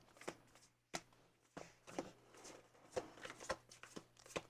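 Soft, quick rustles and slaps of tarot cards being shuffled, in short uneven bursts, faint and close with quiet background hum.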